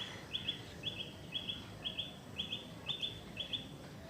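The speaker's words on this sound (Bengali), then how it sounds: "কোকিলের ডাক প্রায় দিনই শোনা যায়" In the morning on a rooftop, an Asian koel calls repeatedly in quick paired notes at an even rhythm, moderately distant over a soft background hush.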